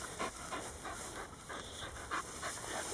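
A dog pants rapidly and rhythmically close by on a walk, quick breathy huffs repeating steadily at a moderate level with no talking over them.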